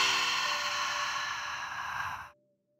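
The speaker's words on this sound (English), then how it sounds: "inhale through your nose. Loud exhale." A long, loud breathy exhale through the mouth follows a deep inhale during yoga breathing, heard close and alone for about two seconds before trailing off into silence.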